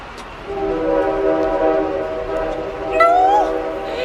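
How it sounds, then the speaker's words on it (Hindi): A train pulls away with a steady rumble, its horn sounding in long layered tones near the start and a rising whistle toward the end. Loud and close, with no speech. "ट्रेन जा रही है"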